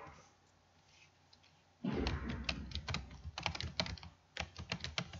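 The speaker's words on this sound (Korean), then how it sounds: "이 백스페이스로 문구를 일단은 지워주시고" Typing on a computer keyboard while deleting text with backspace: after a quiet start, a close run of rapid key clicks and taps comes in irregular bursts, with no speech.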